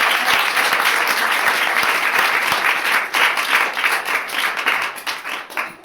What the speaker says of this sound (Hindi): तो जोर से ताली बजाए प्रभु को